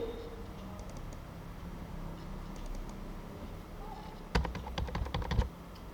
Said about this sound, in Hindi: मैं बारी बारी से अगली स्लाइड पर जा रहा हूँ माउस से क्लिक करके।